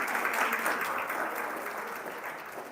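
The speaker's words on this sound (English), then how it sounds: "Can we have a round of applause for our teams?" Applause for hackathon teams at the close of a pitch competition, a dense, sustained clapping from an audience that gradually fades slightly.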